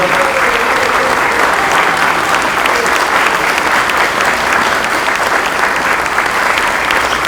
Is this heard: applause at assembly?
yes